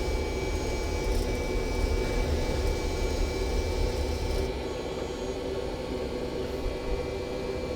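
FlightFactor 767 jet engines at takeoff power in a flight simulator, a continuous broadband roar with a thin high whine, steady throughout and easing slightly partway through, with no talking.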